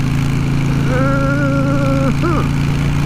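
A Harley-Davidson Sportster cafe racer motorcycle engine idles with a loud, steady, low rumble throughout, and a short tonal vocal sound rises over it midway.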